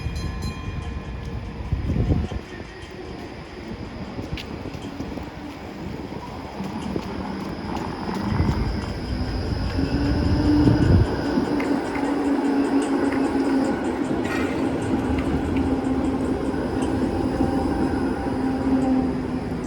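A city tram in Tampere, Finland rumbles past steadily, with a low droning hum and faint metallic squeals rising as it moves by, fairly close.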